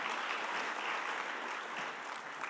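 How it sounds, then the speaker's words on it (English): Sustained, dense applause from an audience at a summit on homelessness, greeting the Ohio House Speaker; a steady, even roar of many hands clapping throughout, with no talk over it. "Please give another round of applause for our Ohio House Speaker, Jason Stephens"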